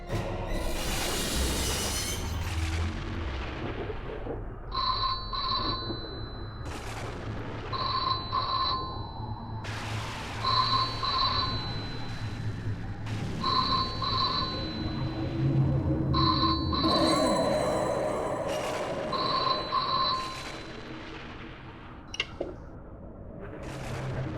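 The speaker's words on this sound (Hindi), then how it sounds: "लगता है फोन की घंटी बज रही है।" A telephone rings repeatedly in evenly spaced double bursts, clear and fairly close, over a faint background hum.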